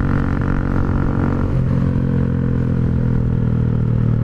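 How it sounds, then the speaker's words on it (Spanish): A Motomel S2 motorcycle engine rumbles loudly and steadily during a speed run, its exhaust giving a deep, throaty drone that shifts slightly in pitch midway. "Suena muy bien el escape"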